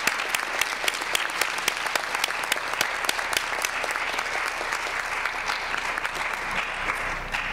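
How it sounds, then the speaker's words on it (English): Audience applause at a school board standing committee meeting, a steady dense patter of many hands clapping throughout at moderate level, with no voices standing out. "I think we need to share a hand clap with them to show how much we appreciate"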